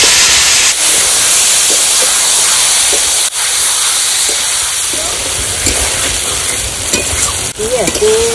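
Loud, steady sizzling as marinated duck meat hits hot oil over spiced masala, with a continuous close frying hiss and a few light clinks of utensils.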